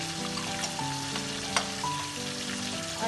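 Beef frying in a pot with salt, garam masala and black pepper being stirred in, a steady close sizzle running throughout with tonal background music underneath.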